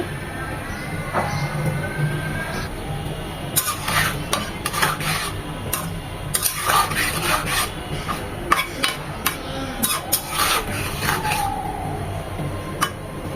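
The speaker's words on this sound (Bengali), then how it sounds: "চিনির শিরা সহ আমগুলো দিয়ে দিচ্ছি" Raw mango shreds stirred in sugar syrup in a pan, heard as close, irregular rubbing and scraping strokes over a steady background hiss, moderately loud, with no talking.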